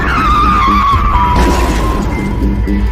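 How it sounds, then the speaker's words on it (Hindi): A car skidding and crashing into a tree, a long loud tire squeal with grinding noise that breaks into a harsh smash, set among dramatic background sound. "विभा अपनी गाड़ी का संतुलन नहीं बना पाई और उसकी गाड़ी एक पेड़ से टकरा गई"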